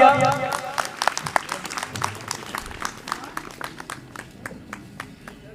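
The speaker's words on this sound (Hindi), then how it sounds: "एक बार जोरदार तालियां।" Audience clapping at a Hindu community gathering in Bhadra, a quick burst of hands that thins out into scattered, rhythmic claps fading over several seconds, with brief voice sounds at the start.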